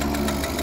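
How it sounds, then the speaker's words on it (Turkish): Honda CG motorcycle engine idling in Farming Simulator 22 with a blown exhaust, a loud close rough rumble with slight knocking pulses, brief and unbroken. "Egzoz da patlatmış boyuna dolanıyor burada."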